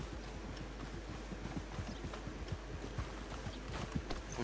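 Horse hooves clip-clop faintly in the RedM western roleplay game, a soft irregular walking rhythm under a steady low background hum, distant and quiet.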